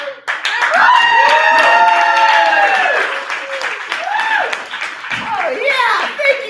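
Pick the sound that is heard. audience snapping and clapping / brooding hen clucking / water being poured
audience snapping and clapping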